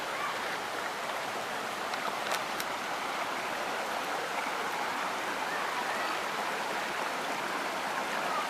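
The Hope River at Garden Town Road in Jamaica flows with a steady, broad rush of water that is close and constant, with no voices over it.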